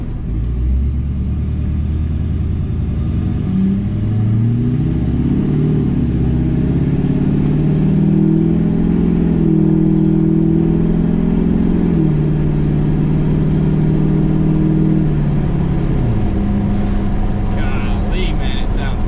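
A Duramax diesel truck with a straight-pipe exhaust and new down pipe rumbles and revs loudly up close, its deep exhaust note swelling and falling across several long revs before settling to idle.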